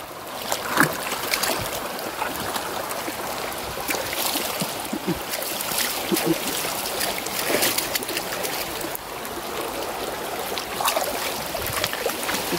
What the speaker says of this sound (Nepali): हो बाढी आयो बाढी बगाउला